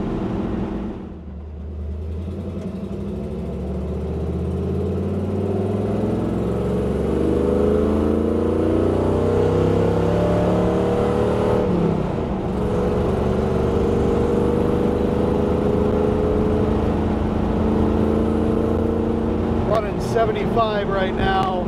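A 1970 Chevrolet C10 patina pickup with fuel injection cruises at 55 mph around 2,500 RPM, a steady low engine drone and road rumble filling the cab while someone talks over it.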